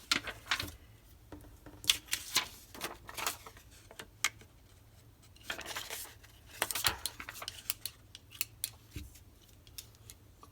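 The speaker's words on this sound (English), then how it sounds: "if you want to use the stapler, you have to, I don't know if you heard that click" A stationery stapler is worked by hand, producing a loose string of crisp mechanical clicks, snaps and crunches at close range, fairly loud, with quiet pauses between bursts.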